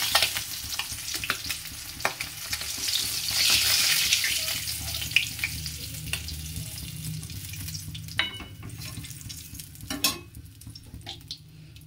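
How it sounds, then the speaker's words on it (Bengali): Eggs fry lightly in a pan with a soft, fairly faint sizzle, swelling briefly, with scattered clinks and scrapes and no talking. "হালকা করে ডিমটা ভাজবো।"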